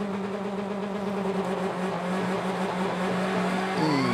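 Onboard a BTCC touring car at the race start at Brands Hatch, the engine holds high, steady revs with a loud droning buzz, then pitch climbs as the car accelerates away.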